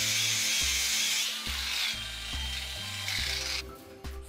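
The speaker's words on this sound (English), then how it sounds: "I try also grinding disc. It grinds nicely on third or second stage." A 125mm cordless brushless angle grinder fitted with a grinding disc runs under load, a steady high whine and grinding hiss with the motor pitch stepping as the disc bites and eases, close and loud.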